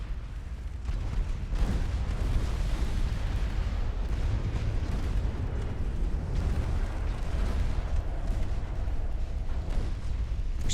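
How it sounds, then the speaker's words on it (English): Torpedo detonation in the naval warfare game Ultimate Admiral Dreadnoughts, a loud, dense rumbling roar of blasts and crackle that sustains for the full duration without pause. "Torpedo detonation."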